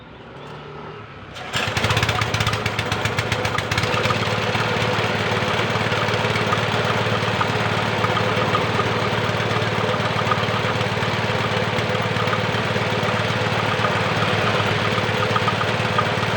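An air compressor motor starts up abruptly after a quiet moment, then runs on as a loud, steady, dense mechanical drone with a constant low hum, close by and alone.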